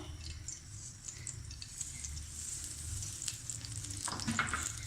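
Chicken frying in a tablespoon of ghee for a chicken tikka pizza makes a steady, close sizzle, with a brief louder burst of spattering near the end.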